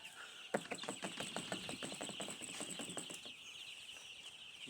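Many young broiler chicks cheep in a poultry farm shed in a dense, continuous chorus, with rapid overlapping peeps and a few scuffles and wing flutters nearby.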